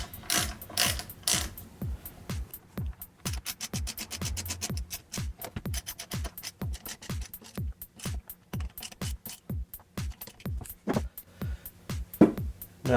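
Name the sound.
ratchet tightening bolts on an RX7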